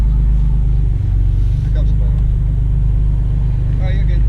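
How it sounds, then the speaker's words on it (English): A 2004 Nissan Xterra on a test drive after inner and outer tie rod replacement gives a loud, steady low engine and road rumble heard from inside the cabin, with faint rattles on top. "Now let's take it for a test drive."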